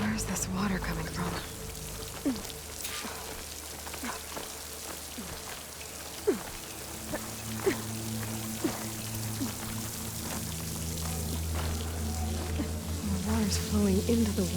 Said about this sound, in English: Flowing into the wall, towards a hollow area.